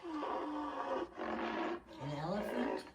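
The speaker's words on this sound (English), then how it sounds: "That is a rhinoceros." A rhinoceros calls in low, drawn-out groaning bellows, three long voiced phrases with brief breaks between them, steady and fairly full, playing as a recording at a zoo storytime.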